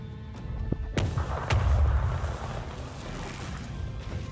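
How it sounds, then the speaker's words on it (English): A cannon barrage in Warhammer 40k: Rogue Trader, a game, lands as a sharp crack followed by deep rolling booms and a long rumbling tail, loud and close. "Cannon barrage."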